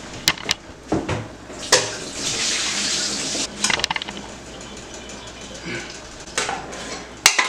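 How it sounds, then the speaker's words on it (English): Water pours into a pot of soup with carrots, cabbage and malanga for Haitian pumpkin soup, a rushing splash broken by clinks of pots and utensils in a home kitchen. "Now let me put the water out."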